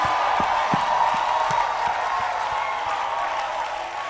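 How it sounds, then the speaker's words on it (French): Church congregation applauding and cheering for Jesus, a dense, loud, continuous wash of clapping and crowd noise with occasional whoops, sustained throughout. "est-ce que tu peux acclamer Jésus"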